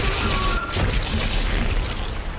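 Several explosions in the survival horror game Dead Space go off close together, a dense, loud burst of booming noise that stays at a steady roar through the whole stretch.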